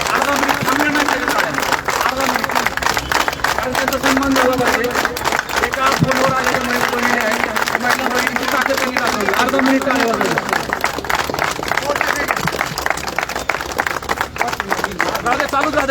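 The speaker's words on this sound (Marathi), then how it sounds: "किमान अर्धा मिनिटं सगळे टाळ्या वाजवत" A crowd of men and women on a street clapping together in sustained applause, dense rapid handclaps running throughout with voices and chatter mixed in.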